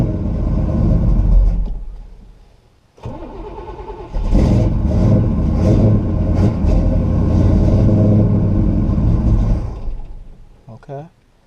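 A 1969 Buick Special Deluxe with carburetor fuel problems cranks and catches, then revs loudly and unevenly in close bursts before settling and dropping off, with a voice talking over part of it.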